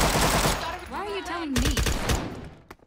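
Gunfire in Garry's Mod, a dense burst of shots in a chaotic game fight, close and loud, with a voice talking over much of the firing.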